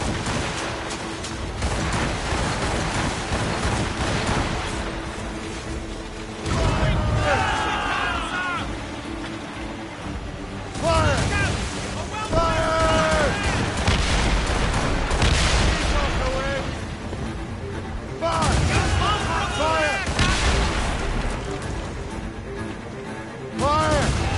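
Ship cannon fire in the video game Assassin's Creed Rogue comes as repeated heavy booming volleys with splashing and crashing, loud and close, while voices shout over the battle.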